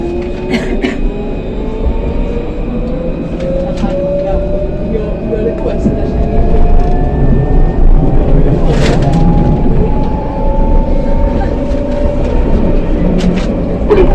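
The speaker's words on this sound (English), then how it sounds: "let's take a look at the trams, which are slow city disc trams" A slow city tram in Barcelona rolls along with a steady rumble and rising electric motor whine, wheels squealing faintly on the rails and a few sharp clanks over about fourteen seconds.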